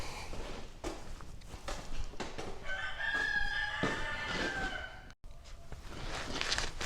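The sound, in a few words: rooster crowing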